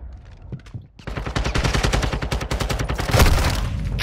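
Rapid automatic gunfire in a multiplayer shooter game, a long loud burst of closely spaced shots that intensifies toward the end, alone without talk.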